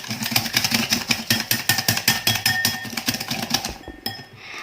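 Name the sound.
mixer mixing egg, sugar and vanilla essence for cookie batter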